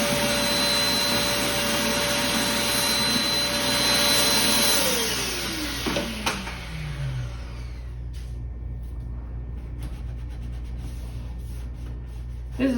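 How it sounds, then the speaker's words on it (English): Shop vacuum running loud and steady as it cleans dust out of a car's air box, then its motor winding down to a low rumble as it switches off. "I'm gonna grab my shop vac and I'm gonna try to vacuum out any dust and dirt"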